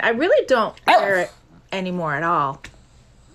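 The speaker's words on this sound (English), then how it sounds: "That's my dog" An old dog barks in several short bursts close up, a few sharp yips and a longer drawn-out howling bark, while a person talks over and between the barks.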